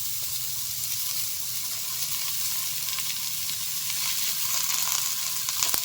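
Chopped snake gourd tipped into a pan of reddish-browned frying onions, a steady close sizzle running evenly throughout with faint stirring scrapes and no talk.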